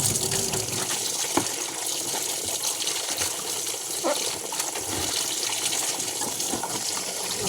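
Water pours steadily into a basin nearby, a continuous splashing gush with small drips and knocks, no voices.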